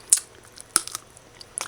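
Someone bites and chews a piece of saltfish up close while cooking, giving sharp crunchy snaps with soft chewing between them, quiet and with no talking.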